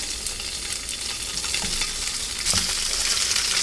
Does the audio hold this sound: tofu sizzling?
yes